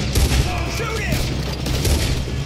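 Gunfire in the video game Red Dead Redemption 2 during a robbery shootout, a burst of rapid overlapping shots against a busy noisy background.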